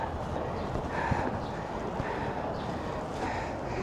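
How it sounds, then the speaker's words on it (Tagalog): Steady gusty wind buffets the microphone outdoors near Fansipan mountain, a continuous rushing roar with no voices. "Medyo mahangin sa labas."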